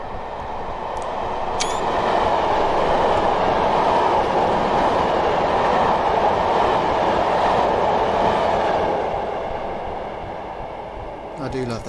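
A train from Train Sim 2020 on the West Croydon to Wimbledon route rumbles past as a steady, broad roar that swells and holds before easing away, with faint rail clatter and a voice talking over it.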